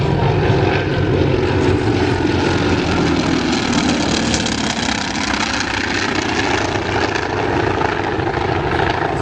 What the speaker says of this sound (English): listen to the sound of the right engine. It doesn't have exhaust.